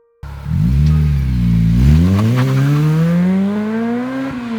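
A Honda Civic Type R EP3 revs up loudly through a Skunk2 MegaPower R aftermarket exhaust with a deep, throaty note, pitch rising steadily as it holds the rev, close by and alone.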